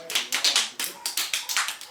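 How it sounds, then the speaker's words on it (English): Hands clap during a children's Simon Says listening game, about nine sharp claps in a quick, fairly even rhythm, close and clear, with faint voices in the background. "Simon Says clap your hands."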